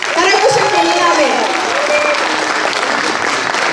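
An audience applauding at a Tamil school festival fancy dress program: loud, sustained clapping from a crowd filling the room, with a voice speaking faintly over the applause.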